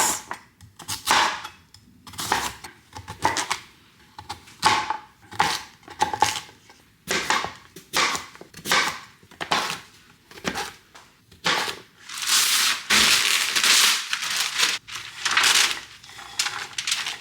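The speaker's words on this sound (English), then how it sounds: "Cut up some sweet potatoes." A knife chops sweet potatoes repeatedly on a cutting board, crisp rhythmic thuds in bursts, close and fairly loud, with no talking.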